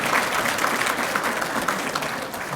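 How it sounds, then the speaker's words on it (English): An audience at an annual commission meeting claps for Marjory, a brief, even burst of many hands applauding steadily throughout. "Let's give Marjory a round of applause."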